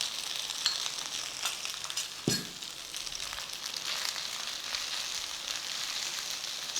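Cooked rice and eggs for nasi goreng fry in a pan with a steady, close sizzle, a single sharp scrape or clatter cutting through early on, and no voices.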